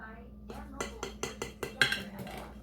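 A knife cuts into a freshly baked two-ingredient keto brownie in its pan, making a series of about seven short, light clinks and taps against the dish, with a faint background hum.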